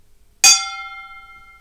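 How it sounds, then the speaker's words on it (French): A single strike on a meditation gong gives a sharp metallic hit followed by a bright, shimmering ring that fades slowly, close and alone. "Donc je commence avec un gong de méditation"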